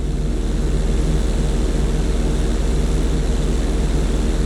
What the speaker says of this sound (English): roll your plane over to the opposite side and hold the position